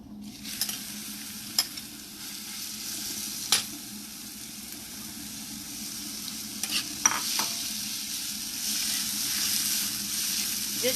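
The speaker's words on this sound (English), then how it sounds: "Just saute for a few minutes so that the rawness is gone." Grated raw mango for chutney sautes in a hot pan with a continuous soft sizzle, broken by occasional scraping clicks of a spoon stirring, close and fairly quiet throughout.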